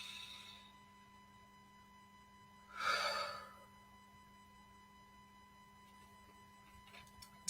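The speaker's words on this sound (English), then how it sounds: "Take a deep breath for me." A single deep breath drawn in and released, soft and close, rising briefly then fading into quiet room hum.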